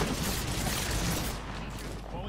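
Gunfire crackles in the Apex Legends video game as a dense, continuous burst of shots and booms, loud and sustained, with a player's voice talking over the fight.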